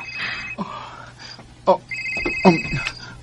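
In a radio drama, a telephone rings with an incoming call in short electronic trills, mixed under a voice speaking over a low hum.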